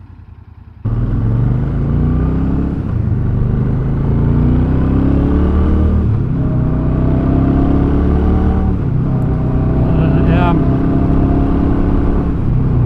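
Royal Enfield Super Meteor 650 motorcycle engine running steadily while riding, a loud continuous rumble with rising and falling gear-change sweeps after a quiet start, wind noise throughout and a brief whine near the end.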